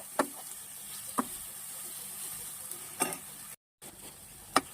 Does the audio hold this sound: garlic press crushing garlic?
no